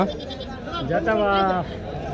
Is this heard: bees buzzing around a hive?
no